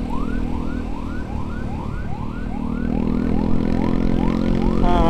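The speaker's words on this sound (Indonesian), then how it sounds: "Nah, ini ambulan." An ambulance siren wailing in a rapid, repeating up-sweep pattern, loud and close with continuous traffic and engine rumble beneath, during an ambulance escort to a hospital.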